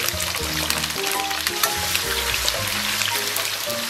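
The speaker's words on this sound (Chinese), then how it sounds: "热锅凉油，咱们给来点98号的这个地沟油，油温5成热，咱们给里边下点姜片" Ginger slices stir-fry in oil heated to medium in a hot wok, giving off a steady close sizzle and crackle with no talk.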